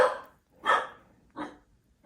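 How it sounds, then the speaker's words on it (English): Three separate barks from dogs, spaced out with short pauses, moderately loud and fairly close. "Sorry about the dogs barking."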